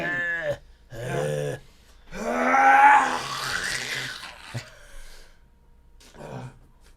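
A long vocal yawn with a drawn-out breathy groan, preceded and followed by short breaths and gasps, close and fairly loud with no speech.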